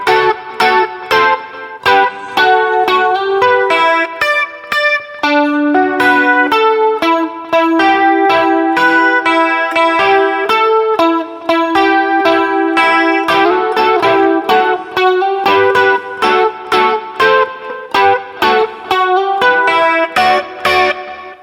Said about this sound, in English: let me play that intro now, just all of the way through